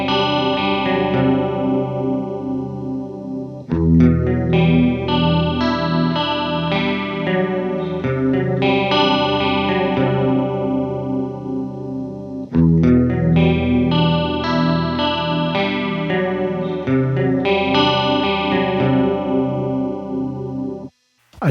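Electric guitar through a PitchFork pedal set to detune near its maximum gives a wavering, chorus-like shimmer as chords strike and ring out in two long phrases, loud and close without any talking.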